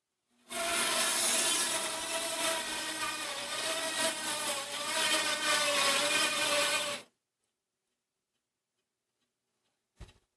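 Close, loud saw cutting through the bone at the lower end of a moose leg near the hoof, a steady rasping run of about six seconds that stops abruptly, followed by silence and one short knock.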